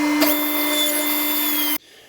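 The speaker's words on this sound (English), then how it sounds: "that's where we'll make our cut on the table saw" A table saw blade cuts through a piece of wood with a steady high whine for under two seconds, loud and close, then stops abruptly, leaving only quiet background.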